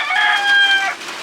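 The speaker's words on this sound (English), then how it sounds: "And a rooster." A single rooster crows once, close and clear in a backyard garden with rabbit hutches, a short sustained call standing alone without talk.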